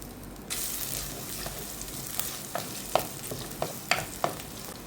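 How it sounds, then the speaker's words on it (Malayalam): Chopped coconut pieces fry in coconut oil, giving a steady close sizzle with a series of light clicks and scrapes as they are stirred in the pan. "ഞാൻ ആദ്യം തന്നെ നമ്മുടെ തേങ്ങാക്കൊത്തുണ്ടല്ലോ, അത് അരിഞ്ഞ് വെച്ചിരിക്കുന്ന അങ്ങോട്ട് ഇട്ട് കൊടുക്കുകയാണ്"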